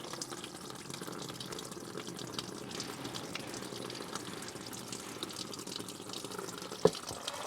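Coolant drains from a Ford Ranger 3.2 during a thermostat replacement, producing a steady, faint trickle of liquid pouring into a container, continuous and unbroken, with a single small knock near the end.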